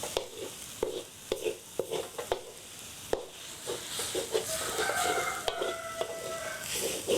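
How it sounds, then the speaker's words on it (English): Grated coconut is stirred in a hot pan to brown it for saur. A spoon scrapes and taps in an uneven rhythm over a soft sizzle that grows steadier later. "We need to keep stirring."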